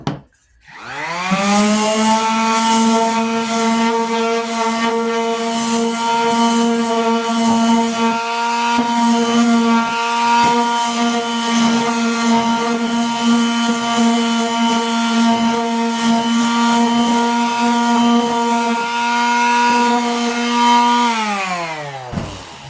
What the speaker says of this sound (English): One more side and then we're done sanding.